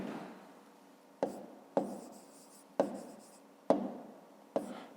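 A pen scratches across paper while figures are written down for a fifth-grade maths exercise: quiet, close strokes punctuated by sharp taps at irregular intervals, with no talking.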